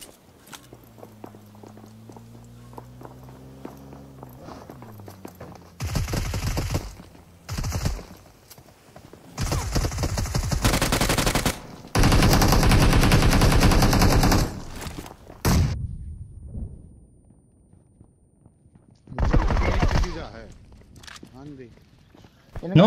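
Machine gun fire in the battle royale game BGMI comes in several loud, close bursts of rapid shots, separated by quieter stretches of footsteps and movement. A voice talks briefly near the start.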